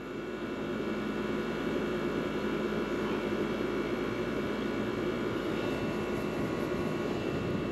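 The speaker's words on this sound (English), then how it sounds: "Compressor's starting to sound a little better." Steady, loud broadband whoosh and hum of an air conditioner compressor running continuously on an iced-up, previously sabotaged unit, constant throughout with no talk.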